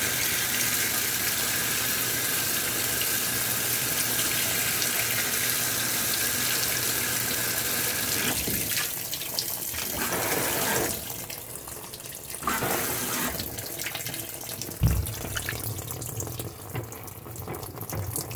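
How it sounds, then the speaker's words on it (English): A washing machine fills with water for its wash cycle, a loud steady gush running into the drum that later breaks into uneven splashing surges, with a single knock near the end. "What this machine does is when it's filling for wash, rinse, second rinse"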